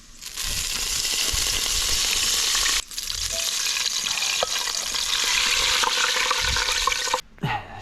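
Animal fat rendering in a pot, pieces turning crispy, gives a loud, steady hiss of sizzling and bubbling that runs nearly unbroken, with one brief dip partway and a sharp drop near the end.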